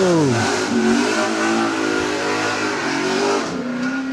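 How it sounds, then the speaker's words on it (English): A Ford XY GT Falcon launches at a hillclimb, its engine note climbing sharply as it revs up, then holding a strong, rising roar with a brief dip near the end. "Neil Oatway's up near the top now in the XY GT Falcon"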